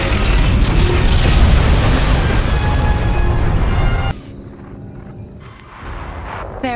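A supply cache blows up in the SWTOR sci-fi game, filling the first four seconds with a loud, dense explosive roar before it cuts abruptly to quieter game ambience with light mechanical tones.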